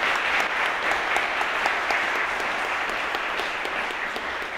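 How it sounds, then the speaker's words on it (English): Steady, dense clapping from a large audience at a graduation ceremony, sustained and even throughout with no voices rising above it. "Let's have a big round of applause for our graduate families and parents."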